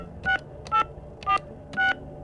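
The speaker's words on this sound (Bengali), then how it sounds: "প্রদীপ হঠাৎ ফ্ল্যাটের নাম্বার ডায়াল করল" Four evenly spaced telephone keypad tones beep in quick succession as an apartment number is dialed in a suspense audio drama, each tone clear and short against a quiet room.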